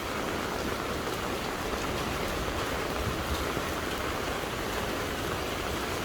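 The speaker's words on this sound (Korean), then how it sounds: "이렇게 비가 많이 오고 습해서" Heavy, steady downpour on a Taipei street, a dense close hiss of rain with no letup.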